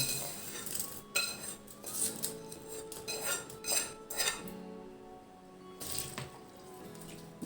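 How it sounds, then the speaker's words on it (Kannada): A spoon clinks repeatedly against a metal pot as tempering is poured and stirred into rice gruel, with scattered close metallic taps and light liquid sounds, no talking. "ಒಗ್ಗರಣೆ ಮಾಡಿಟ್ಕೊಂಡಿದ್ದೀವಲ್ವ ಇದನ್ನು ಬಿಡೋಣ"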